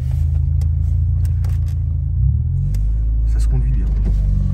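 A car engine rumbles steadily at low pitch while driving, a continuous close drone under people talking inside the cabin, with a slight swell about midway.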